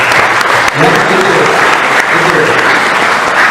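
Audience applauding students of SMA Kosgoro at an Indonesian school education event, a dense, steady wash of clapping filling the room with a brief dip partway through.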